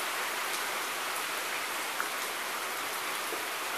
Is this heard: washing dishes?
no